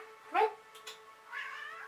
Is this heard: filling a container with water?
no